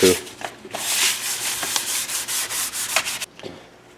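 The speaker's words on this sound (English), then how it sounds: "just going to go ahead and scuff this all up" Repeated hand scuffing strokes across the dash surface of a third-generation Camaro interior before cleaning, a steady run of rough rubbing passes with short pauses, close and fairly loud, with no talking.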